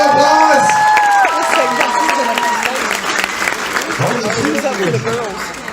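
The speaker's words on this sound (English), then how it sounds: "Give them a nice round of applause." A studio audience at a Love and Marriage show breaks into steady, loud applause with some cheering, the clapping continuous across the whole stretch while voices and a few tonal sounds mix in near the start.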